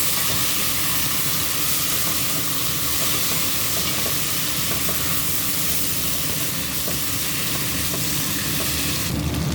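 Rice tipped into a hot pan for a creamy Filipino dish, giving a loud, steady sizzle and frying hiss that runs unbroken throughout with no talking.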